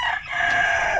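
A Black Australorp rooster crows once, a loud, close, drawn-out call with a rising then falling tone, heard alone.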